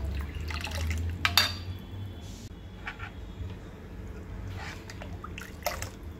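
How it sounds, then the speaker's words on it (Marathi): Gram flour kadhi curry comes to a boil in a pot, giving soft, irregular bubbling and popping drips over a low background, with a few sharper clinks. "चांगली उकळी येऊ द्यायची आता कढीला।"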